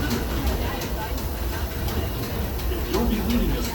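Disneyland Railroad train rolling along its track toward New Orleans Square Station, a steady low rumble and rail clatter with a voice speaking over it throughout.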